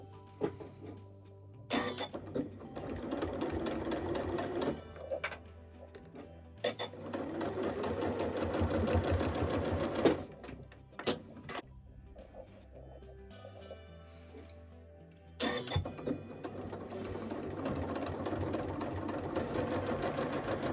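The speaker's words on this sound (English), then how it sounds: "just going to run a little stitch across the top of the handles" Sewing machine running a line of stitching across the top of fabric tote bag handles, close and rhythmic whirring in several bursts separated by brief pauses.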